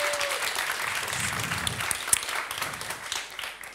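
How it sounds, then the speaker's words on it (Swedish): Seminar audience applauding together, a steady dense patter of many hands clapping close by, holding for several seconds before starting to thin out toward the end. "Vi ger dem en applåd tycker jag."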